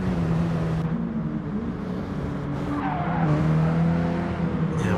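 A car spins out in the GT Sport racing game, engine droning while tyres squeal and skid in a long smeared screech, steady and fairly loud throughout.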